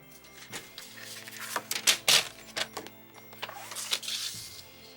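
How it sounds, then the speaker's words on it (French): Scissors cut an old greeting card in half, a close run of crisp, uneven snips and paper crackles that grow busier toward the middle. "celle-ci, on va la couper au milieu"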